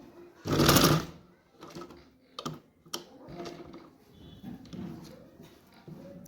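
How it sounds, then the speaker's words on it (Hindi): A sewing machine stitching a half collar onto a garment, with short bursts of rapid mechanical clatter, one loud run near the start followed by quieter intermittent stitching, close up. "थोड़ा सा हमें कॉलर के ऊपर चढ़ाते हुए सिलाई लेके आना है"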